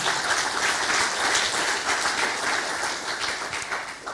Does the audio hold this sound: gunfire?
no